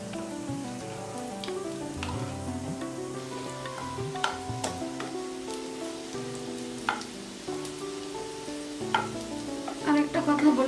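Four potato pancakes, with cheese among the ingredients, frying in a pan: a steady close sizzle with scattered crackles and pops, growing busier toward the end, and no talking.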